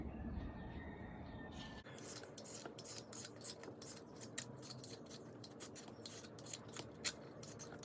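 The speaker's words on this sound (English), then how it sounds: "peel the papaya." A green papaya being peeled for Thai green papaya salad makes repeated short scraping strokes at close range over a steady background hum, each rasp quick and crisp.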